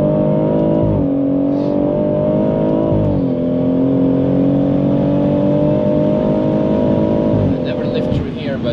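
A 620hp BMW M140i accelerates hard on the Nürburgring, its loud engine drone climbing in pitch and dropping briefly at gear changes, heard from inside the car.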